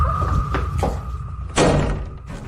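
A door bangs shut hard at mid-clip during a tense late-night family quarrel, a single loud thud standing out against a murky indoor background with a few softer knocks before it.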